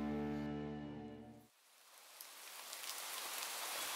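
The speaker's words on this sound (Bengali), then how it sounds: "সেদিন সন্ধে থেকে এক টানা ঝিরঝির বৃষ্টি হচ্ছে।" Steady drizzling rain patters softly and evenly, coming in after a sustained musical tone fades out, then continuing alone as a faint, constant hiss.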